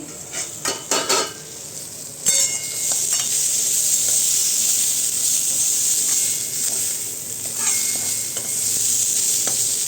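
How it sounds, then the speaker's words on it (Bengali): Beetroot fries in a pan with a bright, continuous sizzle, opened by a few sharp clinks and scrapes of a utensil stirring against the metal, then settling into a steady crackling hiss. "এটা বিট ভাজা হচ্ছে"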